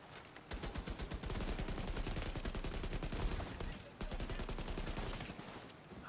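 Rapid automatic assault rifle fire in The Division 2, a near, loud and dense stream of shots running almost unbroken across the clip with only a brief pause partway through.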